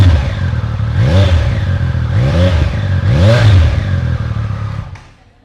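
A Triumph Speed Triple 1200 RR Breitling Edition motorcycle revs close by, three sharp rising throttle blips over a steady idle, then the engine cuts off at the end.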